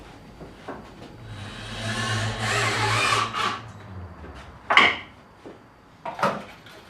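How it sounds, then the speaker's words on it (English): A power driver sinks a number 8 two-inch screw into the wooden frame of a side-mount Murphy bed, a rising whirring grind for a few seconds followed by sharp clacks and knocks of wood and tool. "I can go ahead and use some number 8 2-inch screws to screw the struts to the frame"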